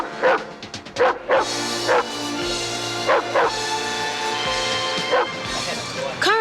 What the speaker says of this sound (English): This is Harry, a movie dog trained by Carl Miller to go from huggable to horrible right on cue.